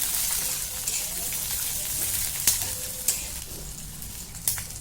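Green chillies, garlic cloves and peanuts roast in a pan with a hissing, crackling sizzle that sounds almost like light rain. A few sharp taps of stirring stand out against it at close range.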